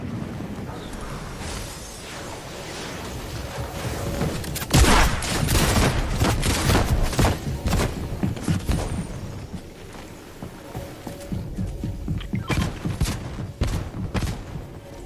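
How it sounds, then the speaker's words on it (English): Bursts of gunfire in Fortnite around a castle, with rapid volleys of shots starting near the middle and recurring in clusters, loud and close over game ambience, with no talk. "shooting at the castle"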